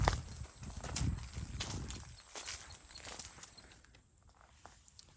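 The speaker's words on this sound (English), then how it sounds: "So right now I'm walking down the fence line." Footsteps crunch along a fence line in Kansas woods, with uneven steps on leaves and brush, fairly close and quiet, fading near the end.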